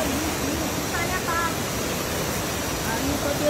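A waterfall on a farm, its water muddied by nearby construction, pours as a steady broadband rush, loud and constant, while people talk faintly underneath.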